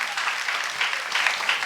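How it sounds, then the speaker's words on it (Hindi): Steady, dense applause rings out from an audience honoring a child at a Jain Paryushan religious gathering, loud and continuous without a break. "जोरदार तालियां उसके लिए।"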